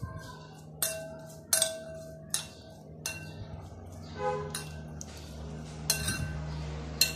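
Corn kernels and lemon juice are mixed with a spoon in a bowl for a no-oil snack, giving sharp metallic clinks and scrapes spaced irregularly, close and fairly quiet with no voices.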